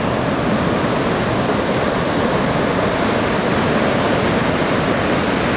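Continuous broadband roar of ocean surf at the Anglet beach break, steady and dense with no distinct individual wave crashes, under wind.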